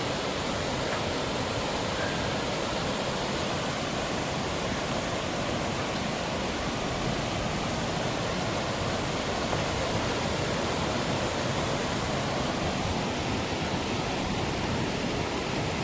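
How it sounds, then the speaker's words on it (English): A steady, dense roar of falling water fills the whole clip, constant and unbroken, with no voices over it. "Well, you can hear the waterfall"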